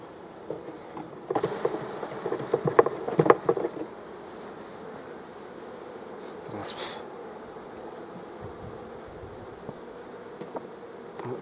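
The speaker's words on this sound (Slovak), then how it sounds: "Tak to vyriešime tak, že ich strasieme, tie včely." Honeybees being shaken off hive frames, a steady close buzzing hum of many bees with a few brief knocks and rustles of the frame early on.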